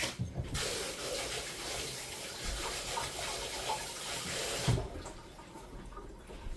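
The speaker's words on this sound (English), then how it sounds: "Let me wash my hands." Hands being washed under a running kitchen tap, a steady splashing gush of water for several seconds that stops abruptly partway through, leaving quiet room tone.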